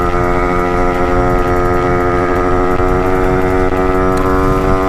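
A motorcycle engine running rich during break-in drones loudly and close, holding a steady, rough, harmonic note that never climbs into higher revs.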